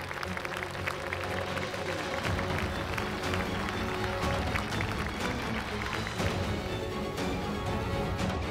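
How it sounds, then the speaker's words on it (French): A crowd applauds steadily and loudly throughout, with dense continuous clapping and no pauses. "Allez, tout le monde applaudit Prithvi."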